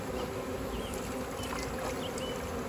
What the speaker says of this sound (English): There's already bees hanging off of some of them.